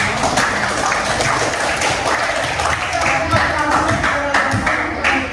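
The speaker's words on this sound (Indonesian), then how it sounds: "Kasih tepuk tangan lagi untuk kelompok." A room of teachers claps steadily for a presenting group, dense even applause running throughout with voices talking over it.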